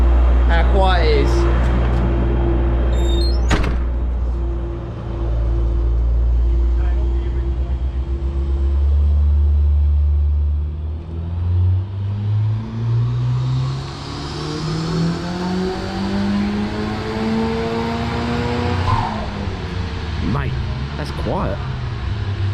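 A Ford Escort Mk4 with a turbocharged Zetec engine drives past, its engine note climbing and falling as it nears and recedes, loud and steady over a low rumble, with some talk around it.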